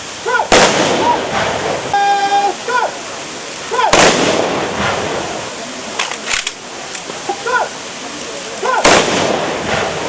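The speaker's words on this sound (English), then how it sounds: "Manipur Rifles personnel gave a gun salute on the occasion" Manipur Rifles personnel fire a ceremonial gun salute, three sharp loud cracks spaced several seconds apart with echoes in between, while a voice speaks in the background.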